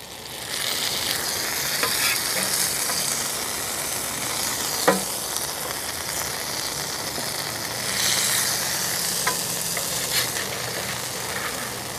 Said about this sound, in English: it's been frying on that side for a couple minutes